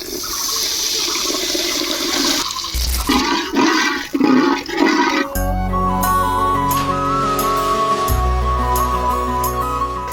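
Water is poured into a pan of frying onions seasoned with green chili and salt for a mango biryani. A loud rushing hiss and bubbling burst comes first, then the sound settles into quieter simmering with a faint tonal hum.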